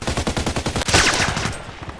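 A rapid burst of automatic gunfire from the online shooter Contract Wars, evenly spaced shots at close range, ending in a louder blast and fading echo.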